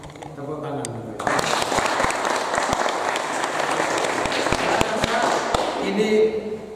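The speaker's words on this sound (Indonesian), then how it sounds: "Tepuk tangan." An audience at a Catholic seminary family commission gathering in Semarang breaks into sustained applause, loud and close, with sharp individual claps standing out after a brief stretch of speech.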